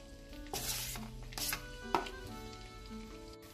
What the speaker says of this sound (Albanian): Tani mbi gjalpin e shkrir, të parën, do e hedhim qepën.